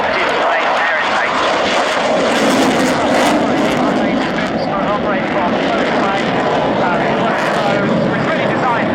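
A MiG-29 jet fighter, the first fighter fitted with dual-mode air intakes, performs at the Yeovilton Air Day display in 2011, its engines giving a loud, continuous roar that fills the air throughout.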